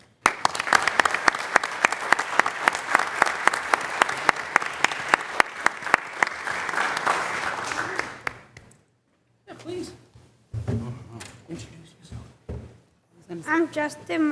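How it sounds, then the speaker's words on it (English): A city council meeting audience in Lynn gives sustained applause for about eight seconds, then it fades out and a few scattered thumps and brief spoken voices follow. "Once again, I'd just like to give you a huge round of applause."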